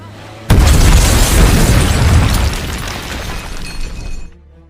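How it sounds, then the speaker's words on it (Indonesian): A bomb hidden in a discarded bag goes off in one sudden, loud blast, followed by a long rumbling, crackling roar that slowly fades before cutting off. "Tak lama kemudian, ledakan pun terjadi."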